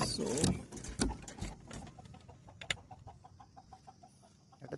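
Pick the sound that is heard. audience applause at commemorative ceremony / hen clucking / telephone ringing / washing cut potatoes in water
hen clucking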